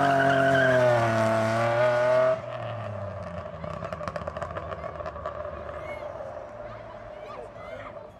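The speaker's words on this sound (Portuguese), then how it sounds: "é drift na rua" Cars drifting on a street, with engine roar and tire noise running steadily beneath a loud, harmonic-rich tone that dominates the first two seconds before dropping to a lower, continuous drone.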